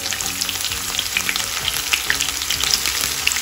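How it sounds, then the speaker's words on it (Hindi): Finely sliced onions fry in a pan with a dense, steady hiss and crackle, close and fairly loud, with faint stirring ticks scattered through and no talking. "तो सारे ओनियन डाल लेते हैं।"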